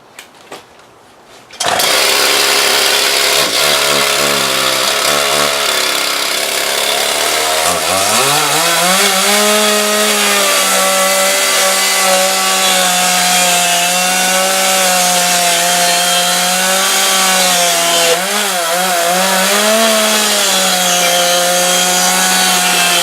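A Homelite chainsaw with a rebuilt carburetor and clutch starts up loud and close, idles briefly, then revs high and holds a strained, wavering roar as it cuts through wood.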